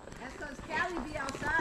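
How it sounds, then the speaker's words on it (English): Horses on a woodland trail ride, hooves clip-clopping in an uneven walking rhythm fairly close by, heard under a talking voice. "We riding horses in the woods now."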